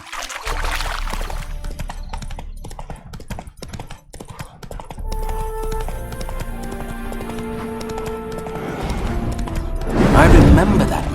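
Horse hooves clip-clopping in Witcher 3: Wild Hunt, a steady patter of steps under a voice, with music swelling and a louder rush of noise near the end.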